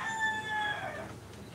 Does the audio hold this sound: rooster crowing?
yes